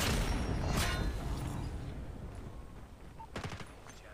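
An MG42 machine gun fires in a video game, heard as quick bursts of rapid, rattling shots at moderate volume, with a pause between bursts and a second short burst near the end.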